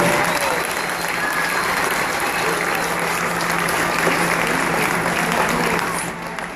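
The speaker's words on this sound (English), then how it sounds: "Let's give a round of applause for all these three beautiful animals here" A zoo audience at Busch Gardens applauds three animals shown on stage, producing dense, loud, sustained clapping that holds steady and thins out near the end.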